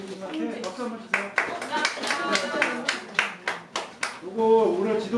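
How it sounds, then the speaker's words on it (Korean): Audience at a Korean eco-museum living-lab workshop session claps in short bursts, with voices talking over and between the clapping. "박수 한번 주세요"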